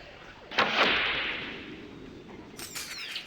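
In The Longest Journey, a bow looses a grappling hook trailing a rope: a sharp snap and rushing whoosh, then the rope hissing out behind it and a few faint metallic rattles as it settles.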